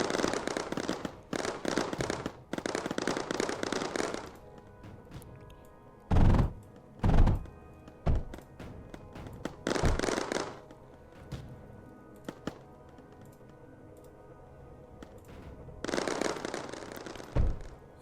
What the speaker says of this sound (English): There's something exploding there.